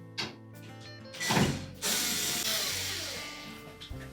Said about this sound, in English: we're next going to remove these two screws that secure that main top to the cabinet